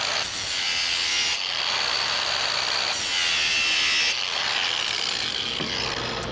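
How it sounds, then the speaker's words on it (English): An All American sharpener grinds the bottom blade of a mower on a Honda adapter, a loud continuous rasping grind with rhythmic passes swelling and easing every second or so. "And do a quick grind on the bottom blade."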